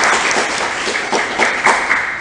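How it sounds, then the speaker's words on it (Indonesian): Loud, close applause from an audience at a seminar on zakat and fundraising, a thick burst of many hands clapping with a few heavier individual claps standing out as it carries on. "Sekali lagi tepuk tangan buat Anda semuanya."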